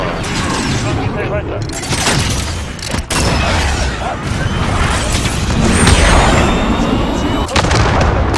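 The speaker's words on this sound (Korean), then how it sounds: "좌표 확인. 폭격하라." Call of Duty: Modern Warfare airstrike bombardment pounds down in heavy continuous blasts and crashing debris, with sharp bangs mixed in and voices talking over the barrage.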